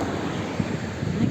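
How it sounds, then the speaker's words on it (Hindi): Cool wind blowing across a mountain road, a steady broadband rush with gusty low rumble throughout, fairly loud and close to the microphone, with no voices. "बिल्कुल ठंडी ठंडी हवा चल रही है"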